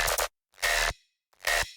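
Layered tearout bass samples with reverb playing together in three dense, gritty bursts separated by silence, each hit loud and abrupt with a short reverb tail.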